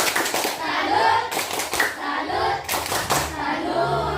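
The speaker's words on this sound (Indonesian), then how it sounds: "Kita tepuk salut dulu, tepuk salut" A primary school class performs a rhythmic 'tepuk salut' clapping chant, bursts of group clapping mixed with children's voices in a classroom, fairly loud and close.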